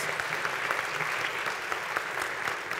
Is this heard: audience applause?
yes